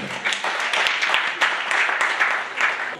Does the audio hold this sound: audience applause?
yes